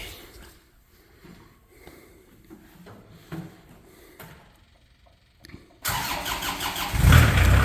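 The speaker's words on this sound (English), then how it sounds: "Now we're going to go ahead and fire it up here, show you how she runs." The Kubota engine of a 2014 Moffett M55 truck-mounted piggyback forklift cranks and catches, rising abruptly from quiet background into a loud, steady running rumble that swells slightly as it settles.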